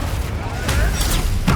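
A Confringo blasting spell explodes in Hogwarts Legacy, a loud booming burst over a steady rumbling game soundscape, followed by a sharper crack near the end.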